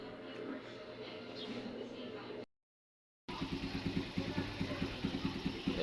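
A motorcycle engine with a battery that keeps running flat and a suspected regulator fault idles steadily at close range, broken by a brief silent gap before the engine note returns with a pulsing, uneven beat.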